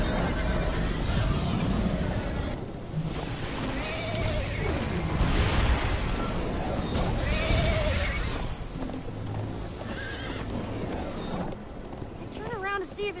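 Horse neighs and galloping hooves from a Minecraft Story Mode scene, loud and continuous amid game music and effects, with voices talking over parts of it.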